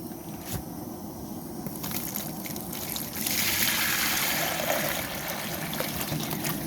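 Warm gelatin mixture for ballistic gel pours with a continuous trickle and splash that builds in the second half, steady and fairly close over a low background rumble.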